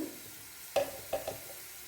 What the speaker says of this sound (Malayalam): നല്ല നന്നായി ഒന്ന് മൂത്ത് വരട്ടെ ഉള്ളി നന്നായി മൂത്തിട്ടുണ്ട്